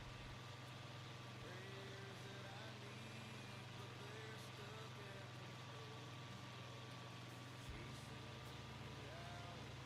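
An older, somewhat underpowered tractor in Farming Simulator 25 on the Gnadenthal map runs steadily while finishing a field, a continuous droning engine hum with a low rumble and faint background tones throughout.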